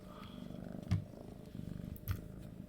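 A cat purrs softly and close by in a steady rhythmic low rumble, broken by two brief louder thumps.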